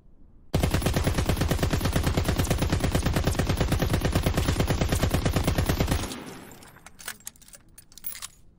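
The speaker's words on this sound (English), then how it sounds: "This is your LAD machine gun" The LAD machine gun fires with no attachments in Call of Duty WW2, a loud close burst of rapid, evenly spaced shots lasting about five seconds, then cutting off into faint clinking and rattling tails.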